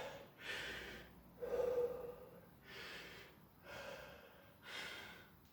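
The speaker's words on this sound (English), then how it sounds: "you probably heard with my puffing and panting on the video" Heavy breathing after a high-intensity legs and core workout: five loud rhythmic puffs and pants, each exhale a breathy burst about a second apart, close to the mic with no talking.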